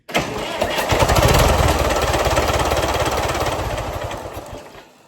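A Case 830 tractor engine kicked over against compression, giving a loud, labored chugging that rises quickly, churns for a few seconds, then dies away.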